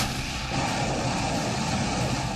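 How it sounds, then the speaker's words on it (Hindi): Artillery and missiles firing in a war zone make a steady, loud, dense low rumble that keeps going without clear separate blasts, with no voices over it. "हवा से लेकर जमीन तक पर गोली, तोप और मिसाइलें दागी जा रही हैं"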